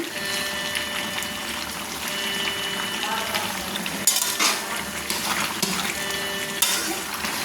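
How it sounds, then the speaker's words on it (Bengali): Mutton with spices is stirred in a pan, giving soft scraping and sizzling with occasional utensil clinks against the metal, heard under a person talking. "দেখুন মশলার সঙ্গে মটনটা কেমন হয়েছে, দেখুন আমি নাড়ছি।"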